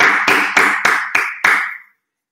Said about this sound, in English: It's not awkward at all to clap on an empty room